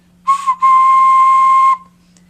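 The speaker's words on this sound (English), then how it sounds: "Make sure my whistle is working." A handmade clay whistle is blown in two bursts, a short toot followed by a longer steady, pure high tone held for about a second, loud and close in an otherwise quiet room.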